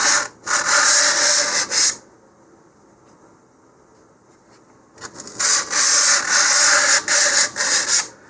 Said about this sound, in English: use between about 60 and 100 grit sandpaper. And so I'm going to go around all of the fin slots here.